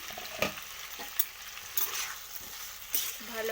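Fish with cauliflower stems sautéing in a pan, a soft sizzle broken by several quick stirring scrapes, fairly quiet and close.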